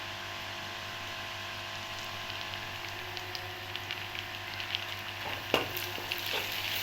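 Ginger garlic paste frying with browned onions in a pan for a village-style masala fish curry, a steady close sizzle with crackles and a few sharp stirring clatters toward the end.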